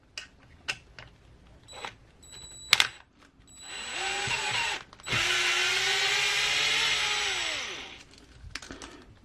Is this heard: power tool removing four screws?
yes